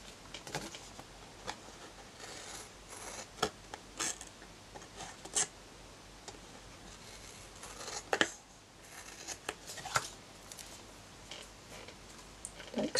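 Scissors trimming excess paper off a handmade card, soft snips and crisp clicks scattered irregularly over a quiet hiss, close by with no talking.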